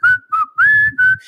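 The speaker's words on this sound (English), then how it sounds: "I'm sure other people will be whistling that in time" A person whistles a tune in four clear, loud melodic phrases with short gaps between them, close up and with no talking.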